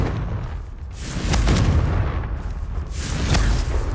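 A Confringo blasting spell goes off in the video game Hogwarts Legacy, giving a couple of deep booming bursts with rumbling tails, loud and close, with no talking.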